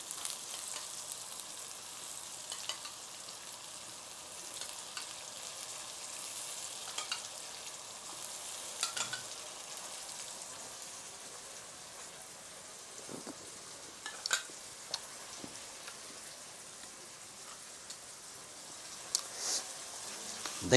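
Yogurt added to a frying pan while cooking methi aloo sabzi sizzles softly and steadily, a faint hissing fry with a few scattered pops and stirring taps.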